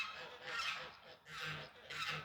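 Geese on a homestead honk in three drawn-out bursts, evenly spaced and somewhat distant, standing alone against quiet outdoor air.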